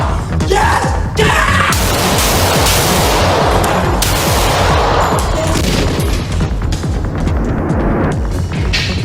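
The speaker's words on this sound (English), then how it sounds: "I got shots fired." A dense, loud burst of gunfire during a police confrontation with a knife-wielding man, with shots overlapping in a continuous barrage and no talk.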